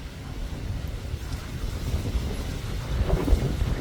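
Gusty wind buffeting the microphone on a terrace, a low rumbling roar that swells and surges, growing stronger toward the end.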